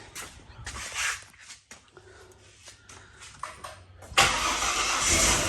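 A Ford BF XR6 Barra straight-six, newly swapped in, cranks in short bursts, then catches and fires into a loud steady idle in a shed.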